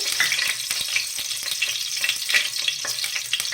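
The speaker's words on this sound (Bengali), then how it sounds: "এবার ঘিটা দেওয়ার পরে ঘিটা দিয়ে গরম হয়ে গেছে, তেজপাতা টুকরোটা দিয়ে দেবো" A bay leaf sizzling in hot ghee for pumpkin payesh, a close, steady crackling fry with bright spitting bursts and light stirring taps, no talking.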